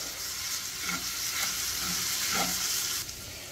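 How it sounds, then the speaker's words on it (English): Jasmine rice and garlic crackle in a hot pan over medium heat, a steady close sizzle with a few soft scraping stirs spaced through it. "Next, I have one cup of jasmine rice. I'm going to mix that together."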